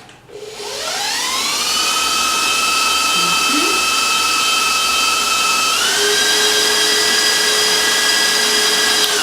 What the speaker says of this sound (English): So I'm going to whisk that, put that together, and mix it up.